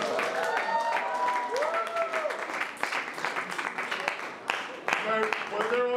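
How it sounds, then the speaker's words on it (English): An audience at a youth debate forum applauds its eight speakers, sustained clapping from many hands filling the room while voices call out and a few people talk over it. "invite you to give one more round of applause to all 8 of our speakers this evening"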